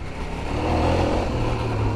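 A CFMOTO 800MT-X adventure motorcycle engine pulls smoothly off-road, a steady mid-level drone with a broad rumble, close and continuous for two seconds with no talk.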